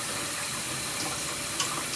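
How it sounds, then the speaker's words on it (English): Rice rinse water poured out into a kitchen sink, a continuous splashing, gurgling stream of running water, close and fairly loud throughout. "now we're just going to pour off the water as much as we can without the rice going down the drain"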